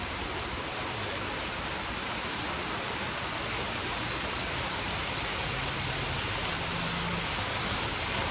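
Steady, dense hiss of heavy rain pouring down without a break, loud and even throughout.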